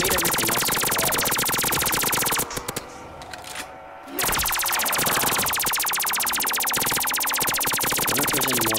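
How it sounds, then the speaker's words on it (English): A gun in a custom zombies video game fires in loud, continuous rapid automatic bursts, briefly pausing for about two seconds before resuming at full volume. "That is so loud, that gun."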